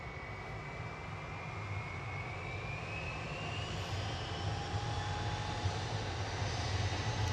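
An Airbus A319 jet departing Manchester Airport gives off a steady, distant engine roar that builds slightly and holds throughout, with no voices.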